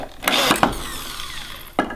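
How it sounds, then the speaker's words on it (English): A power drill bores pilot holes into a wooden Dutch door for a tiny house build, with two loud bursts of drilling close by, a quieter stretch, then a sharp burst near the end. "That's why I'm drilling these pilot holes."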